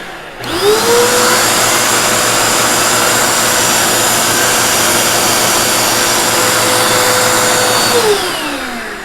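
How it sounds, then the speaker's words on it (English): A Dirt Devil vacuum cleaner fitted with its animal brush attachment runs loud and steady for about eight seconds, a constant whining roar with a brief rising tone at start-up and falling away at the end. "your little animal vacuum here, your little brush, stick it on the end"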